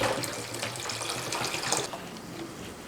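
About 1.5 liters of white vinegar pours into a pan for sriracha sauce, a steady close splashing and gurgling stream of liquid running continuously.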